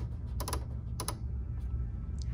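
A Bernina L 890 serger's cutting width knife being adjusted, giving two short mechanical clicking bursts over a low steady machine hum, close and fairly quiet.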